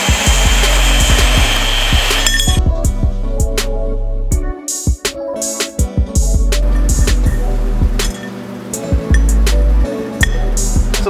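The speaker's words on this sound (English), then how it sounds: "we'll cut two of those out of an inch and a quarter" Metal tubing, one and a quarter inch, is cut with a power tool for a budget Land Rover Discovery roof rack: a loud, steady close-up grinding drone with sharp clanks and knocks, briefly stopping and restarting midway.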